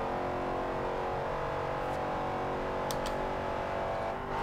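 A 2015 Dodge Charger R/T with a seven-speed paddle-shift gearbox drones steadily at high revs in Forza Horizon 2, a continuous loud engine note with brief upper-range blips suggesting quick gear changes.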